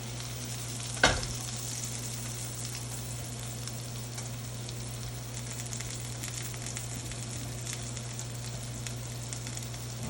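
A NY strip steak sears in a cast iron pan with a steady, loud sizzle and a strong hum underneath; one sharp knock sounds near the start, and no one speaks.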